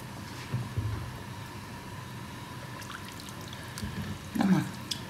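Warm water pours steadily into a pot of Surinamese lamb tripe sambal with lemon, a soft continuous trickling splash, close by and fairly quiet, with faint kitchen clatter.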